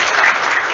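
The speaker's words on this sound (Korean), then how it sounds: "우리 목사님한테도 박수 한번 쳐주시죠" A church congregation bursts into brief, loud applause, a dense burst of many hands clapping up close and fading out at the very end.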